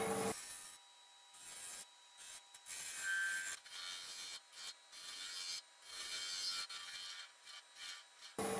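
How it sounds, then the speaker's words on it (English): A small ground negative-rake scraper rasps over a turned ironwood lidded box in short bursts of bright scraping with brief pauses between strokes, close and fairly quiet. "used a little negative rake scraper that I ground to get into tight areas just to smooth it up"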